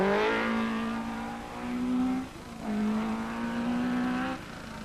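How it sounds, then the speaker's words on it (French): A Lancia rally car on a Monte Carlo Rally stage in 1981, its engine loud and near, holding a steady high note, dipping briefly as it shifts and then pulling again as it passes. "Ce n'est pas encore l'Audi du leader, c'est la Lancia de Darniche"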